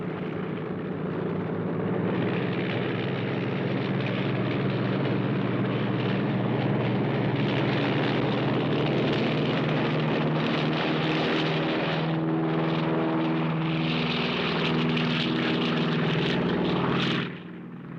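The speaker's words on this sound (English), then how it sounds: "Pretty sloppy takeoff." A small propeller airplane roars on its takeoff run, its engine drone loud, close and steady for the whole stretch, then cutting off abruptly near the end.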